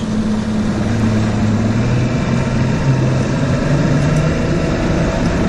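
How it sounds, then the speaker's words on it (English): Fishing boat engine idling as it motors out of a river onto Lake Okeechobee, a steady close low drone that holds level and unbroken with no talk. "we just backed the boat in the water. Idling out of the river right now."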